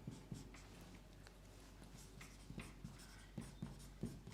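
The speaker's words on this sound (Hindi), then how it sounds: "तो नेक्स्ट हम लिखेंगे" Chalk or pen writing on a board during a chemistry lesson on ammonia oxidation, heard as faint scratchy strokes in short bursts, quiet and close, with no talking.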